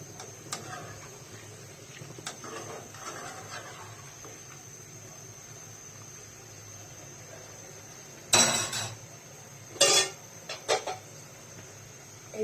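A spoon stirs chicken korma in a pan with a few sharp metallic scrapes and clinks, mostly quiet then a short cluster of louder knocks against the pan, close by, no talk.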